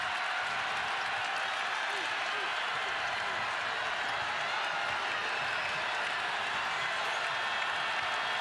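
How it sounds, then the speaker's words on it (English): At a women's college basketball game in Knoxville, Tennessee, a packed arena crowd keeps up a steady loud roar and cheering while a commentator talks over it. "this crowd is on fire in Knoxville"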